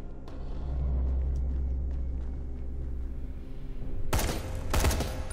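Gunfire in the Dying Light video game: a sustained low rumbling volley followed by two loud, sharp broadband bursts near the end, with no talk over it.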